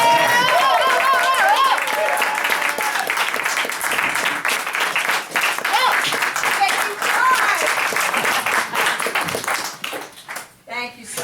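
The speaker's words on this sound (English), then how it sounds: "Let's have a round of applause for Ann." Audience applause for a performer named Ann, loud sustained clapping from a crowd that keeps going for about ten seconds before thinning out near the end, with a few voices mixed in.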